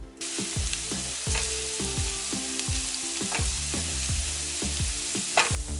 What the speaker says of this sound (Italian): In una casseruola piuttosto bassa e ampia aggiungete l'olio e lo scalogno oppure l'olio e la cipolla a seconda dei vostri gusti e iniziate il soffritto.